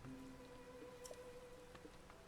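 Rain falling in Zelda: Tears of the Kingdom, a faint, steady patter under quiet game ambience with a few soft tonal notes.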